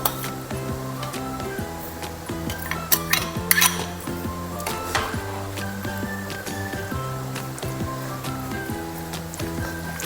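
Bamboo shoot and pork belly being stirred in a pot: a spoon scraping and clinking against metal in an irregular rhythm, close and fairly loud, over a steady hum of cooking.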